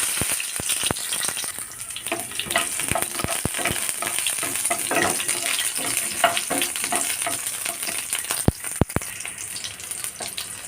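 Shallots crackle and sizzle in hot oil, with a spoon scraping and stirring the pan and a couple of sharp metallic taps near the end.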